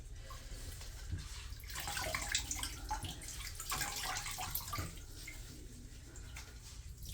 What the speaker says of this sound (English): Just gonna let it drain out a little bit.